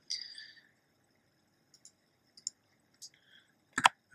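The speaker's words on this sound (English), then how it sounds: "I'm typing in English" Someone types on a plastic computer keyboard, producing a few sparse, sharp key clicks with quiet gaps between them, ending in a slightly louder cluster of taps.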